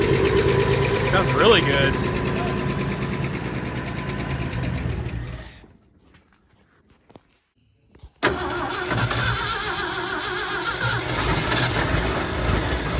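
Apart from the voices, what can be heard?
Ford F-100 truck engine starting and idling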